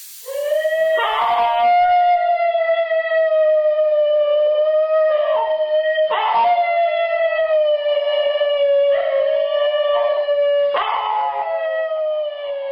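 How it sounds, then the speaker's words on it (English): A New Guinea singing dog, a cousin of the dingo, gives a long loud tonal howl, holding wavering pitch for seconds with a few sharp yelping breaks and rises, alone and close. "it was the week when the New Guinea singing dog made its voice heard once again"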